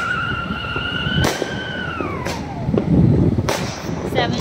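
Seven-shot firecrackers going off during Diwali celebrations in Panipat city, with several sharp cracking bangs spread through the clip and a descending whistle, set against a steady outdoor din and crowd noise.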